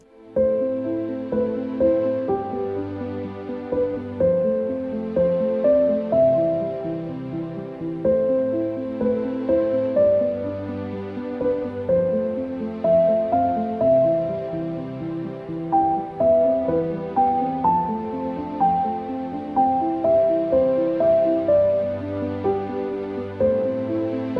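A complete 16-bar piano piece with string accompaniment and added dynamics, flowing chords under a gently rising and falling melody, played steadily and alone throughout.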